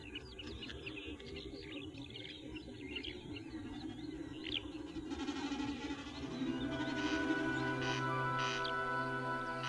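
Calls of a small bird nesting in tall grass on a wet meadow at the forest edge, a steady outdoor chorus of chirps with more tonal song joining in the second half, moderately distant.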